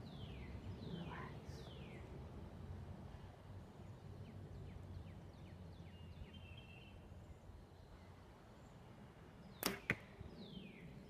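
An arrow shot from a bow strikes a target with a sharp, brief thwack and a quick second knock near the end, after a stretch of quiet outdoor ambience with faint bird calls.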